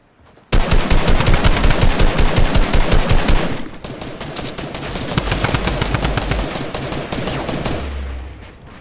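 Rapid automatic gunfire from a video game hammers out as a loud, continuous rattle of close shots, then eases into a slightly softer, sustained stream of firing until it tails off.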